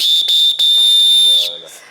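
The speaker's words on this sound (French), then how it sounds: "je siffle quand même la fin de la rencontre" A referee's whistle blown to end a match, one loud, shrill, sustained blast with two brief breaks near the start, close and clear, followed by a short murmur.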